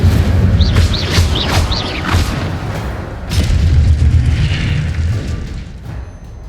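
The Incendio fire spell in Hogwarts Legacy, cast in the Secret Library, hits with loud, heavy booming blasts and rushing, whooshing bursts, followed by a second swelling roar midway that then fades.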